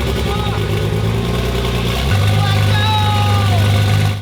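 A rebuilt Toyota GR Supra engine catches on its first start and settles into a steady, loud idle nearby, with the pitch shifting partway through as it runs. Faint voices are audible under the engine.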